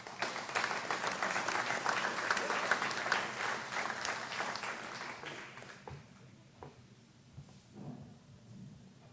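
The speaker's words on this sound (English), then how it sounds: "Mike Bianchi clapped the most" An audience at a high school sports awards ceremony gives a long, dense round of applause that stays loud for several seconds, then thins to scattered claps and fades out.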